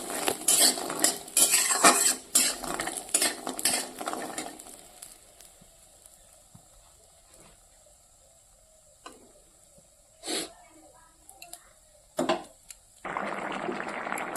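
Coriander seeds and black cumin crackle and sizzle in hot oil in a pan, with busy metallic clatter of a utensil at first, then a faint sizzle and a few isolated clinks.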